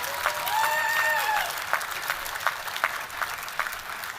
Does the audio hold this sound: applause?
yes